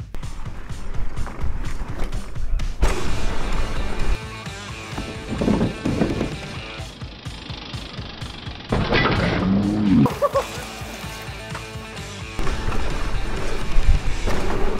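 A mountain bike with 24 inch wheels rolls down a trail with a close, rumbling rattle of tires and chain, freewheel ticking and creaks, and surges and lulls as the terrain changes.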